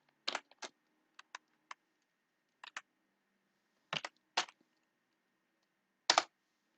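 Sparse keystrokes on a computer keyboard while entering a value into Java code, a few isolated clicks and quick pairs spread irregularly, close and quiet in an otherwise silent room.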